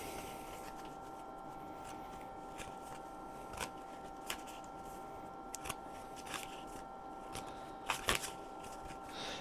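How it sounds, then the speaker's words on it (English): A deck of tarot cards is shuffled in soft bursts of riffling and clicking over a faint steady hum, quiet and close with brief pauses between shuffles. "actually I'm going to shuffle again"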